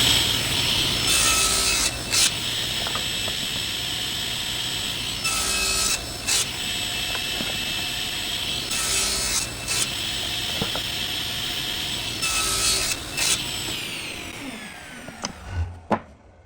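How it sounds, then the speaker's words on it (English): Hand saw cutting wood miters for a simple miter box, four bursts of steady back-and-forth rasping strokes separated by short pauses as the piece is rotated between cuts, close and loud with no talk. "I'm gonna cut off this first piece, and then I'll rotate the piece itself, make another cut"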